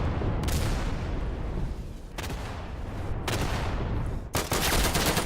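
Gunfire in the World War II shooter Day of Infamy, several sharp loud shots and short bursts over a dense battlefield rumble, with a strong final shot near the end.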